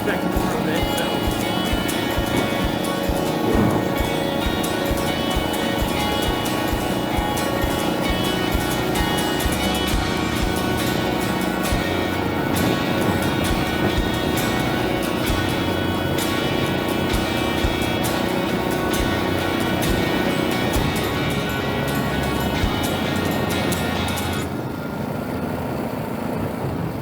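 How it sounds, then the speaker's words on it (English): Honda GX 120cc engine on a motorized bike riding downhill under engine braking, a continuous droning hum with wind rush, steady and close throughout before easing slightly at the very end. "I'm doing the engine braking now down the hill."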